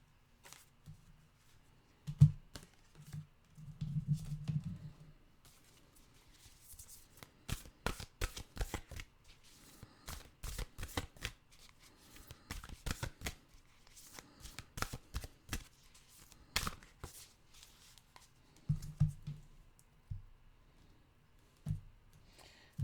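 Oracle cards being shuffled by hand, a run of crisp riffling bursts and clicks, moderately close and fairly quiet, with short pauses between shuffles and no talking.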